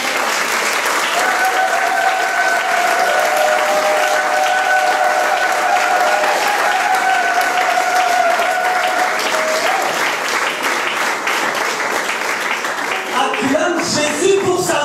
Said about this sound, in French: je te demande d'acclamer ton Père spirituel